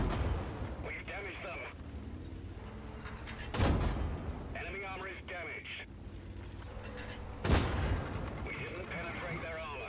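A tank cannon fires armor-piercing shells in World of Tanks during a fight with an IS-3. Two heavy, booming shots land about four seconds apart over a steady rumble of engine and battle noise.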